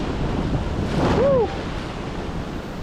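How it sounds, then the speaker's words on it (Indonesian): Ocean waves crash against the rocky shore at Karang Bandung beach on Nusa Kambangan, a steady roaring surf close by with heavy wind noise over it and a brief whistle-like tone partway through. "Ombaknya gila anjir."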